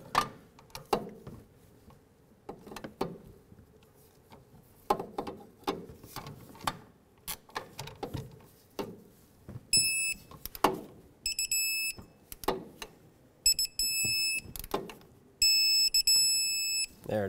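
A torque wrench tightens the steering shaft pinch bolt to 20 foot-pounds on a 2005-2021 Nissan Frontier 4.0L V6. Scattered ratcheting clicks come first, then repeated short electronic beeps sound in bursts near the end.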